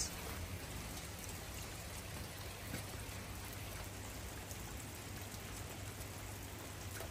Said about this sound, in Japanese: 雨です。